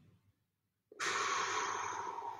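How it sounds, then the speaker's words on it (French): One deep breath in during a guided relaxation exercise: a short, quiet inhale, a pause, then a long, steady breath lasting over a second. "On inspire. On expire."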